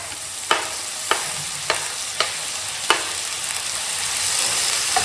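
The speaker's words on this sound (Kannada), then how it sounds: "ನೋಡ್ಬೋದು ಫ್ರೈ ಆಗಿದ್ದಾವ ಆನಿಯನ್ನ" Onions and tomato frying in a pan, stirred in a few distinct scrapes about every half second to second over a steady sizzle, no voices.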